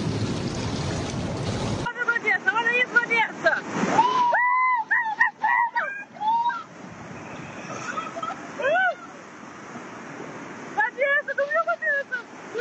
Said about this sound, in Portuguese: A água vem forte, ó.